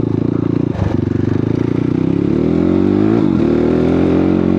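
A motorcycle rides a slightly muddy mountain trail, its engine loud and close with a steady pulsing throb, a brief clatter early on, and revs rising and dipping as it climbs.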